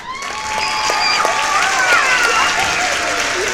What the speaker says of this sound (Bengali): তোমাদের জন্য একবার হাততালি হোক।